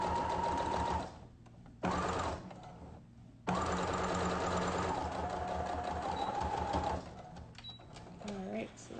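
A sewing machine stitches face mask fabric in loud, steady mechanical bursts, pausing twice briefly before running on, with a faint voice in the background.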